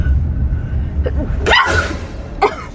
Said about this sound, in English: You just sneezed on me?